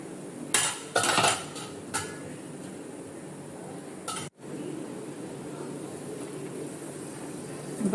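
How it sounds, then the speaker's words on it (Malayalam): Prawn curry with curry leaves stirred in a pan, a few sharp metal spoon scrapes and clinks near the start, then a steady faint sizzle of cooking in the background. "ഇപ്പോൾ കൊഞ്ചായതുകൊണ്ട് ഇളക്കാം, പൊടിഞ്ഞു പോകുന്ന പേടി വേണ്ട."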